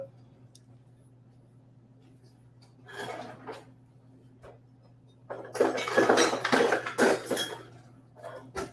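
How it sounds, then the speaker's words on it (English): A shallow baking pan being handled for cooking fish, with quiet early clinks and then a burst of close metallic clattering and scraping of pan and utensils, set against a low steady hum. "I have a shallow baking pan here that I'm going to use to cook the fish in"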